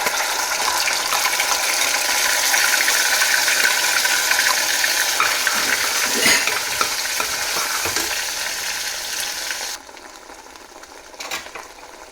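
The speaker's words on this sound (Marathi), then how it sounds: "कांदा टोमॅटोची पेस्ट चांगलं झाकण लावून आपण थोडं शिजवून घेऊया" A thick onion-tomato paste sizzles and spits steadily in a hot pan with cumin and a bay leaf, close and fairly loud, with a few scraping stirs before the sizzle drops quieter.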